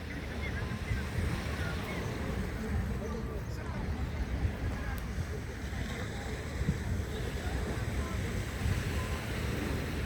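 Surf washes onto the hotel beach of Riadh Palms in Sousse, Tunisia, a continuous low roar of waves heavily buffeted by wind across the microphone.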